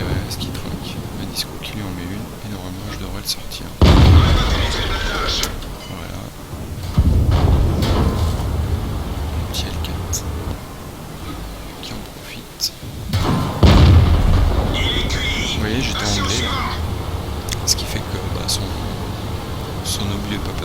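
Two heavy booming M6 tank cannon shots in a video game, several seconds apart, each with a thudding low impact, over a steady rumble and ongoing talk.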